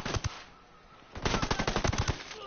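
Submachine gun fire in a video game: a short opening burst, a brief lull, then a longer loud run of rapid automatic shots.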